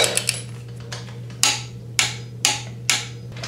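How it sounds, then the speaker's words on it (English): A torque wrench clicks as it tightens a timing belt roller bolt on a Subaru EJ25 SOHC engine, giving four sharp, evenly spaced metallic clicks after a few lighter taps, over a steady low hum. "we're gonna torque this down to 30 foot-pounds"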